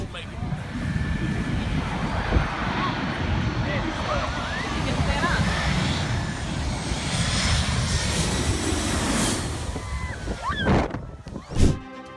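MD-900 helicopter engine and rotor roaring steadily during a height-velocity curve test, with wind noise and a voice talking over it, ending in a couple of loud sharp bursts.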